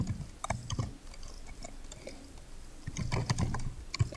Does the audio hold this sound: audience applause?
no